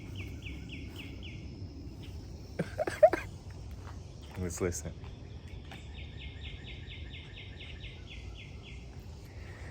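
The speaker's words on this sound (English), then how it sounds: "We don't get birds chirping, all that good stuff in the morning." Faint birds chirp in the distance over a quiet outdoor background, with rapid repeated trills and a few brief voices.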